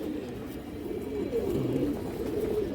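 A pair of green-necked pigeons, a female and a male, coo softly and repeatedly close by, their low rolling calls swelling over a quiet background.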